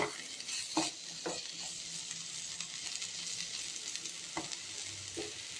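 Bitter gourd frying in a pan for a fish curry meal, a soft, steady sizzle with occasional spoon scrapes and taps, quiet and continuous with no voices.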